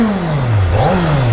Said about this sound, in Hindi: बहुत ज्यादा स्मूथ है, एग्जॉस्ट नोट सुनो